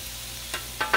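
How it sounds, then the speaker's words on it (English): Bacon sizzles in a pan with corn, a steady hiss joined by a few short bursts of stirring or spattering, close and moderately loud. "Let's go ahead and throw in some bacon."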